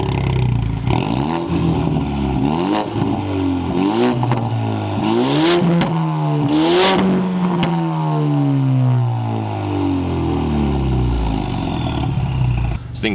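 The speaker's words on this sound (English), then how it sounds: "I don't know if you could hear the exhaust." A loud, throaty modified exhaust on a turbocharged EcoBoost Ford Mustang revs up and down repeatedly, close by, its pitch climbing and falling in several surges before a long deep rumble fades.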